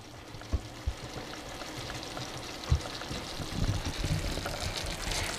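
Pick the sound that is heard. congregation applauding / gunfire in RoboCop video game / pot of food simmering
pot of food simmering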